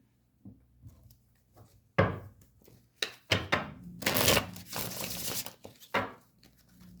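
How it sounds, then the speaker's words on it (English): Oracle cards from a winter-themed deck being shuffled by hand, giving bursts of papery riffling and slapping that come in short irregular runs with quiet pauses between, close and fairly soft. "I'll give it some more shuffles"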